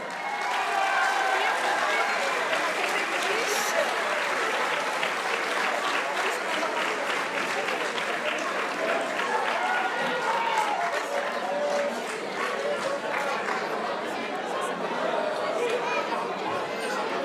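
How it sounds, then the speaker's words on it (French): Audience at an award ceremony applauding a podium finisher, sustained loud clapping from a sizeable crowd with chatter and murmuring mixed underneath throughout. "Merci d'applaudir Isabelle Rouleau."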